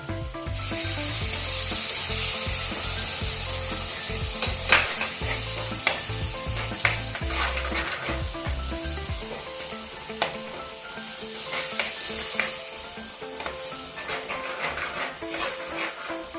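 A pan sizzles steadily up close while a spoon scrapes and stirs through thick tomato paste with ginger and garlic in repeated strokes, with no talking.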